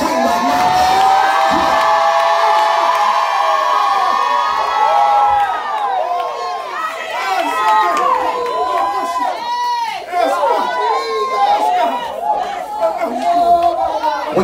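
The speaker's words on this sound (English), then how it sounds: "you better open your mouth and scream right now" A church congregation screams, whoops and cheers loudly during a sermon, a dense crowd roar with overlapping shouting voices that rises and falls across the whole stretch.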